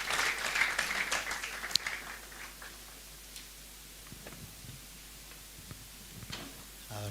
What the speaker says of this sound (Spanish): Vamos a obsequiar más aplausos, por favor, al grupo Canto de Esperanza